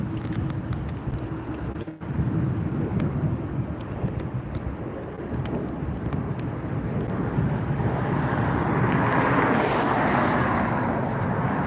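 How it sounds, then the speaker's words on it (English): A Southwest jet taxis at LAX, its engines a steady broad roar that swells toward the end, heard outdoors under gusty wind buffeting the microphone. "Southwest taxiing out now."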